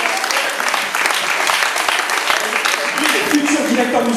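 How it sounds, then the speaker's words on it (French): An audience applauds at a drummers' concert for peace in Perpignan, with steady, dense clapping throughout and a voice talking over it near the end. "Vous l'applaudissez, voilà."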